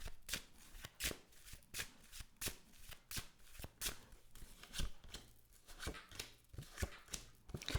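A deck of tarot cards is shuffled by hand in quick repeated riffles and crisp slapping bursts, close and fairly quiet, with no talk.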